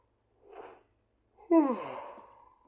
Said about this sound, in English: I'm so yawning.